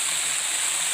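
Water rushing out from under Bustos Dam, a continuous, close hiss of flowing current with no pauses and no voices.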